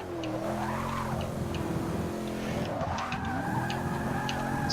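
A Chevrolet Camaro drifts in Forza Motorsport 6, its engine droning and rising and falling in pitch while the tyres squeal continuously through the slide.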